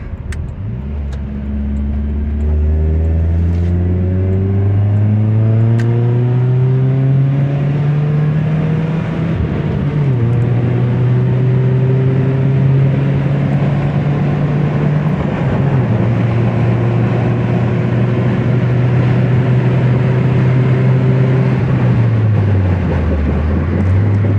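A Datsun B210 with a swapped-in KA24E engine hums steadily at highway cruising speed, with its pitch rising and dropping as gears shift, loud and continuous with road noise.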